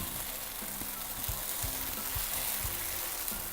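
A paratha flatbread fries in oil in a pan with a steady, dense sizzle that runs throughout. Faint low taps and scrapes sound beneath it, and no one speaks.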